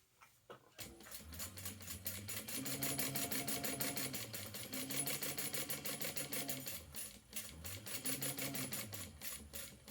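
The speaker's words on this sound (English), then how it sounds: "I'm going to stitch that on our 1/2 inch seam allowance" A sewing machine runs a 1/2 inch seam in steady rapid bursts of stitching, slowing and speeding between passes, close and fairly quiet with no talking.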